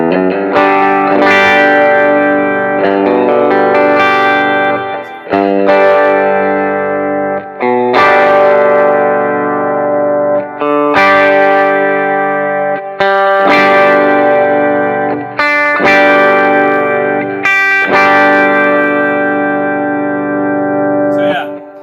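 Clean tone from a Yamaha Revstar electric guitar strumming chords in short phrases separated by brief pauses, bright and ringing with no distortion and nobody talking.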